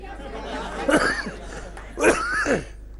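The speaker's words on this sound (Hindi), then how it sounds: "मुझे खांसी का असर हो गया क्या किसी का?" Two loud coughs from someone nearby during an interview, roughly a second apart, over a low background hum.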